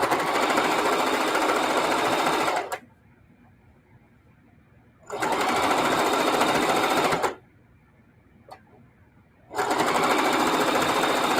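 A sewing machine stitching in the ditch along a quilt seam, running in steady loud bursts of a couple of seconds each, separated by brief silent pauses, with a small click between runs.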